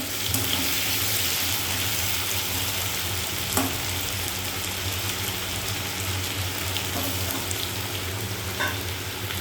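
Salted potatoes fry in a pan with a continuous, even sizzle and hiss, moderately loud and close, broken by a couple of brief clicks or scrapes, with no talking.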